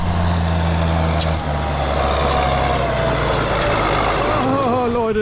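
A Fendt 936 Vario Gen6 tractor engine drones steadily at low revs while driving, a loud, continuous near hum with a gentle rise in pitch toward the end.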